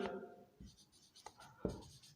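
Chalk or marker writing on a board during a physics lecture on atomic structure, a few short scratchy strokes close by with quiet pauses between them and a brief voice at the start.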